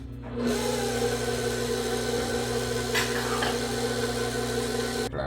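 An electric stand mixer runs in its lowest gear through pound cake batter with flour added, a steady close whirring hum that starts abruptly, holds evenly, then cuts off near the end.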